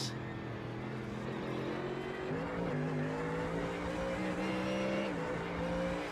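GT3 race cars lap Monza in a racing video game, several engines droning and shifting pitch as they run close together, with commentators talking over the sound.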